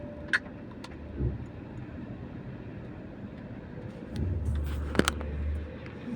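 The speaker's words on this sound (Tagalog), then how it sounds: "traffic agad ang sumalubong" Road traffic passing through a residential subdivision, a steady low rumble of vehicles with a heavier engine swelling up near the end and a few sharp clicks, heard from nearby without anyone talking.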